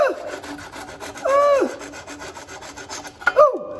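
A saw cutting through wood, rasping strokes at an irregular pace, close up, with the tone rising sharply in pitch as the cut nears its end.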